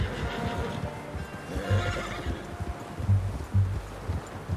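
A horse in Red Dead Redemption 2 whinnies loudly and close, followed by snorts and low hoof thuds against an outdoor game ambience.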